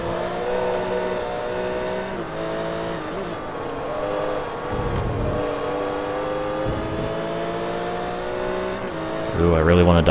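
Race car engine in Forza Motorsport 3 holds a steady high rev through most of the stretch with harmonic whine, dipping briefly near the middle and surging louder at the end, a German BMW racer among the field, with a voice talking over it.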